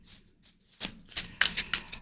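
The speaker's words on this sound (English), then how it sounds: "It would take less time to shuffle." A deck of tarot cards being shuffled by hand, with soft riffling bursts that start sparse and quiet and then build into a quicker run of crisp, close card flicks, with no talking.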